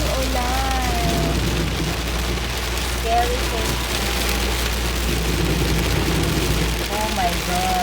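Heavy rain mixed with hail pours down in Einsiedeln, a dense, steady hiss and patter close by, while people talk over it now and then.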